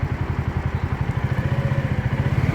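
A 250cc cargo-type motorcycle engine running close by, a steady rapid low thumping idle with an even rhythm throughout, loud and alone without talk.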